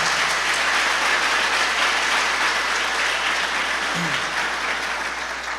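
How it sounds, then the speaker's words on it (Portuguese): A church congregation applauds loudly in a dense, continuous roar of clapping that stays strong the whole time, with no clear voices on top. "Dá um aplauso bem forte a Ele"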